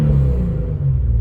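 A stock 2018 Infiniti Q50 Red Sport engine revs on a dyno with a loud, deep, droning rumble held for about a second.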